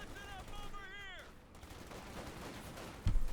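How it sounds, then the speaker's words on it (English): In a Company of Heroes 2 battle, a Pershing tank's gun fires one sharp, heavy blast near the end, preceded by scattered game tones and background combat noise. "Pershing shoots and misses the church tower."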